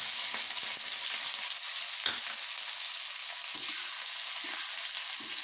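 Onion, garlic cloves, chopped chillies and curry leaves sizzle steadily in hot oil in a pan for a potato bhaji, with a few soft clinks and stirs scattered through the constant frying hiss; no one speaks.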